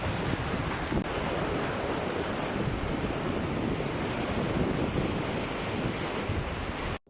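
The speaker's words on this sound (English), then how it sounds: "Oh my god, look at those waves." Ocean waves crash on a beach in a continuous loud surge while strong wind buffets the microphone, with no voices and an abrupt cutoff at the end.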